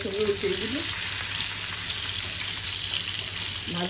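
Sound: koi fish frying in oil

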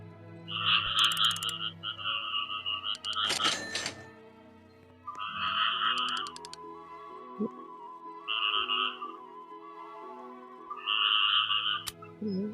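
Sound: frogs croaking in Roblox Grow a Garden video game

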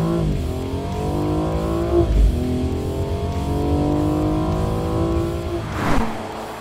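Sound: BMW M235i xDrive engine at full throttle, heard from inside

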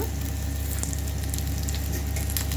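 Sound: chillies and garlic frying in a pan

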